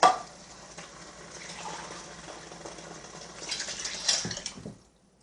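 Two cans of milk pour into a casserole dish for confetti potatoes, a soft continuous liquid stream that swells toward the end before cutting off into silence.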